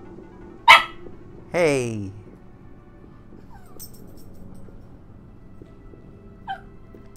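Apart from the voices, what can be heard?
dog barking and whimpering in the video game SWAT 4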